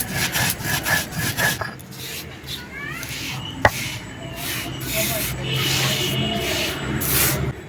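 Lentils are ground in a hand-turned stone quern, giving a rough, scraping rub that comes in repeated rhythmic strokes. One sharp knock sounds partway through, and soft voices can be heard in the background.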